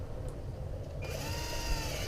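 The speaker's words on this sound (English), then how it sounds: "scrub the clamps down to completely bare metal" Car battery terminal clamps scrubbed down to bare metal, a close, rapid mechanical grinding with a ratcheting buzz that grows harsher and brighter partway through.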